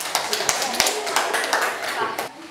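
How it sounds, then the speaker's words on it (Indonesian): Students clapping in a junior high classroom after a group presentation, a short burst of scattered, uneven claps with a few sharp taps standing out, mixed with voices chattering under it. "tepuk tangan untuk kelompok 4"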